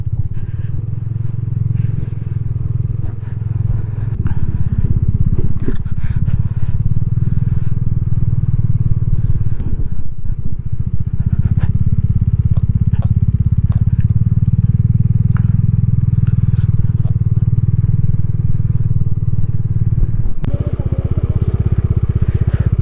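A Bajaj Dominar 250 motorcycle rides a rough mountain road between Leh and Sarchu, its engine droning steadily and loudly under constant crunching gravel, rattles and wind buffeting, with a brief dip in the noise partway through.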